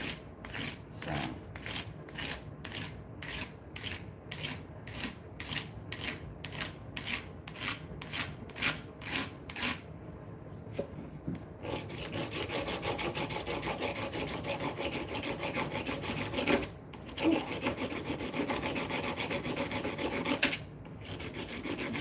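A blade is worked back and forth on coarse 60 grit abrasive, first in rapid rhythmic rasping strokes, then as continuous harsh grinding with brief pauses, close and gritty.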